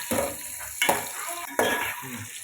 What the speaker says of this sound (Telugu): బాగా వేగాలండి, బాగా ఫ్రై అయిపోవాలి.